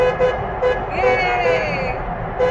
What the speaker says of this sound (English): You gotta blow your horn.